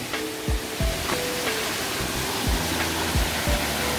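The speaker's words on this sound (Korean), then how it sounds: "바로 여기 아래가 폭포예요." Waterfall in a cold, clear mountain valley stream in Cheorwon, Gangwon province: a steady, full rush of falling water with a broad hiss, continuous and fairly close, with occasional low bumps and knocks over it.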